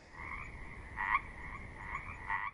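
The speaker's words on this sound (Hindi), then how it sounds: "सावन की घटाएं झूम झूम कर उठती थी" Frogs croak during monsoon rain in a loud, close chorus. Rasping calls pulse in uneven bursts over a soft wet background, with no voices.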